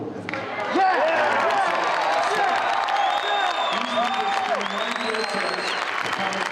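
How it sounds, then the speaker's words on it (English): A crowd of fans at a wrestling press conference, a loud sustained wash of noise with applause, whoops and voices rising into jeers and boos, with speech heard through it. "It has to be a problem somewhere when all the fans are booing."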